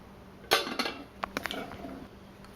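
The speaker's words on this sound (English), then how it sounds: "I guess we'll try to crack it now" A hard-boiled egg tapped and cracked against a counter: a sharp knock, then a few lighter clicks and crackles of shell, close and fairly quiet, with no talking.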